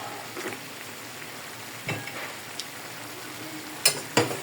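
Beef adobo with a bit of pork fat sizzles steadily in a pan, with soy sauce and vinegar added, and a spoon stirring it produces occasional sharp scraping clicks, louder near the end.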